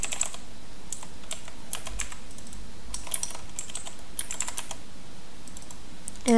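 Quiet, fast typing on a computer keyboard while writing a heading in Canva, with irregular bursts of key clicks broken by short pauses and no voices.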